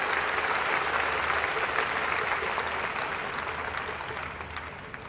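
Sustained crowd applause filling a baseball stadium during a Japanese professional game, a steady roar of clapping that slowly tapers toward the end.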